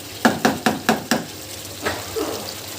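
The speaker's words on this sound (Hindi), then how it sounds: "अब हमें इसको और थोड़ा सा भूनना है अच्छे तरीके से।" Dhaba-style chicken karahi being stirred in a pan: five sharp, evenly spaced scraping knocks in quick succession, then a pause and a couple of softer stirring sounds over a low background.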